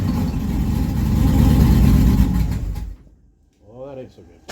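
A car engine idles with a loud, rough, low rumble for about three seconds after a tune adjustment, then cuts out abruptly, leaving near silence before a voice speaks.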